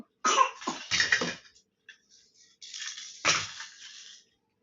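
A girl coughs close by in a short burst of several harsh coughs, goes quiet, then gives a few softer breaths and one more cough.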